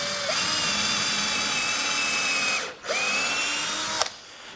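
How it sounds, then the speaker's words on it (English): Power drill pre-drilling holes for coach screws in a wooden workbench: a loud, steady high whine that runs for about two and a half seconds, cuts off briefly, then starts again and stops with a click. "some pre-drilling, give us a little bit of clearance."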